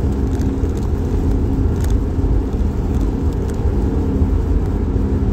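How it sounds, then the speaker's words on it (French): Steady low engine rumble of a running car with an engine warning light on, constant and fairly loud, with no talk over it. "On entend bien le moteur."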